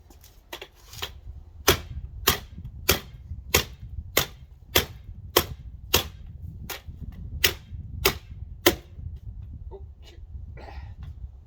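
A Tops Storm Vector knife chops into a log in a steady run of about fourteen sharp, loud, close-up strikes, evenly spaced, with no talking.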